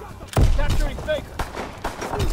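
Call of Duty WWII multiplayer gunfire, a few sharp shots and thuds mixed into busy battlefield noise, with game voice callouts heard over it.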